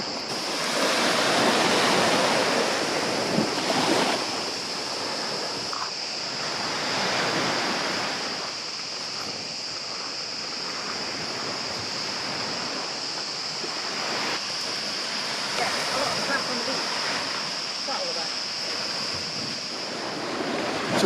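Ocean swell breaking at a beach near sea caves, a steady broad wash of surf with waves rising and receding every few seconds, loud and close with some wind across the microphone, and no talking.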